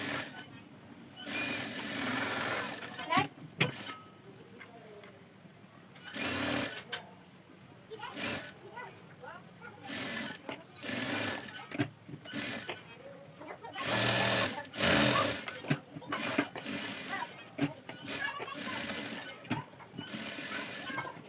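A sewing machine stitches cloth for a small mobile phone pouch, running in short repeated bursts separated by pauses, fairly close and moderately loud.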